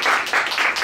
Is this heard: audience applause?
yes